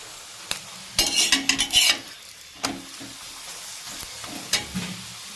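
Palak paratha frying in a little oil in a pan over low gas, a soft sizzle under a burst of scraping and clinking from a utensil against the pan, then a few sharper taps.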